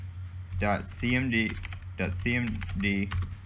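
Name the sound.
typing a command on a computer keyboard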